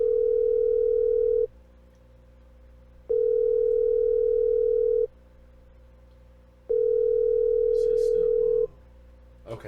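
Repeating telephone ring tone: steady electronic tone bursts of about two seconds with gaps, ending with a brief clatter.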